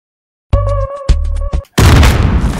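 C4 detonates in a video game: a loud booming blast with tonal, ringing bursts, followed by a rumbling, noisy explosion tail that fills the rest of the moment.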